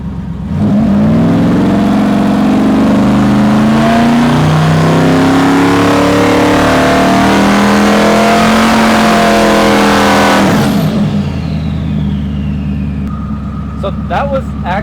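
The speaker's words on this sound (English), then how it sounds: "We're gonna go ahead and spool test the car without the nitrous" Snot Rocket, a 2500 HP turbocharged Mustang drag car, revs hard in a spool test run without nitrous: a loud, sustained engine roar rising in pitch for about ten seconds, then cutting off to a lower idle with faint clicks.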